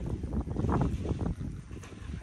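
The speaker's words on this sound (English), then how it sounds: "it's windy, I don't know if you can hear me" Gusty outdoor wind buffets the microphone during a soil plasticity test for compressed stabilized earth bricks, giving a continuous low rumble that swells and fades in uneven gusts.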